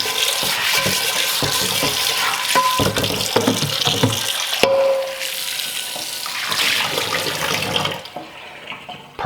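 Hot water runs steadily from a tap into a sink while a cast iron skillet is scrubbed with a brush, a continuous splashing rush with scraping bursts that quiets near the end.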